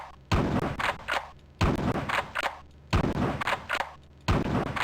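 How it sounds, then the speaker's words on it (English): Grenades dropped by a bomber machine in the Terminator Future Shock game, four heavy booming explosions at roughly even intervals, each with a crackling tail, with no talk over them. "the bomber's the one that drops the grenades out of its after section"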